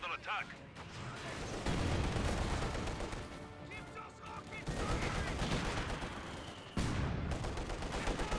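Rapid Maxim machine gun fire from a Company of Heroes 2 battle, dense continuous bursts with blasts of explosions mixed in, loud throughout.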